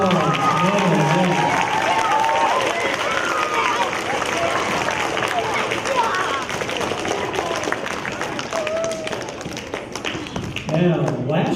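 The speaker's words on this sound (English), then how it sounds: "Let's give all these people a big round of applause" Elementary school spelling bee audience gives a long round of applause, steady clapping filling the room with murmuring voices underneath, tapering slightly toward the end.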